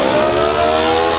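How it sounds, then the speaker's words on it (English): A small classic motorbike with a loud exhaust revs steadily, a dense, continuous buzzing engine note held close and loud for a moment. "it's always the smallest motorbike with the loudest exhaust"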